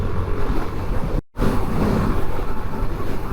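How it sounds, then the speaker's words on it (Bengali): Strong wind buffeting a motorbike rider on an expressway in Dhaka, a loud, steady roar with a sudden brief dropout before the rushing noise returns. "এই এক্সপ্রেস রোডে এত বাতাস, মানে আমার হেলমেট সহ মাথা, বাইক মানে আমার হেলমেট সহ মাথাটা মানে ডান দিকে ফালাই দিতেছে"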